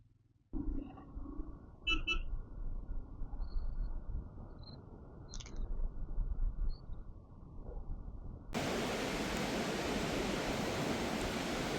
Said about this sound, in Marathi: तुम्हाला नदीचा आवाज येतो का नदीचा.